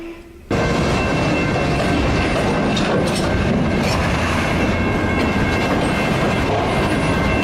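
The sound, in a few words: train hitting and carrying a truck on the tracks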